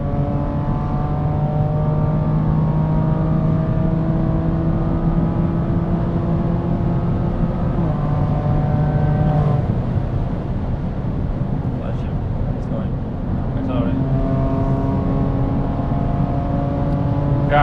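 A custom 500-horsepower BMW M2 Competition Turbomeister accelerates hard past 6,000 RPM at speeds around 260, its engine note climbing steadily then dropping at a gear change before rising again, loud and close inside the car, with voices talking over it.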